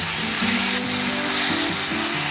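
Ground onion paste with ginger garlic sautéing in hot oil for chole, a steady loud sizzling hiss that continues without a break, with a faint tonal hum running beneath it.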